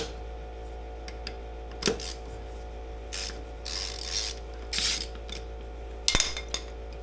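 A ratchet on the left-handed wheel bolts of a 1948 Dodge Coupe gives a few short clicking bursts in a quiet garage, close and fairly soft, separated by pauses and a low steady hum.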